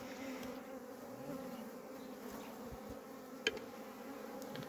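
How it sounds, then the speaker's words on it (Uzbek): Honeybees buzz steadily around the hives just after a rain shower, a continuous insect drone filling the scene with one brief closer buzz passing by. "Asta asalarlarimizni ko'ryapmiz."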